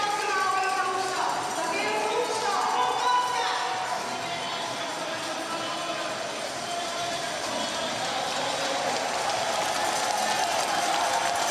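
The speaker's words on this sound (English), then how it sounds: "They're on their feet now to cheer on this young Australian." Velodrome crowd cheering and applauding a young Australian cyclist during an hour record ride, a steady wash of clapping and shouts from a large audience, with a commentator talking over it.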